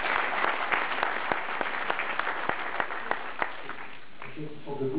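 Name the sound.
standing audience applauding at political campaign event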